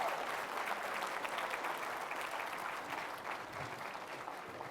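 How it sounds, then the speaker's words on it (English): An audience applauds the Empower Aotearoa team after their winning pitch at Smart Seeds Auckland 2024, a dense, steady wash of clapping that holds for several seconds and tapers slightly near the end. "Huge round of applause for Empower Aotearoa."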